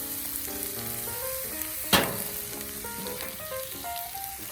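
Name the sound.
spiced shrimp sizzling on Camp Chef flat top griddle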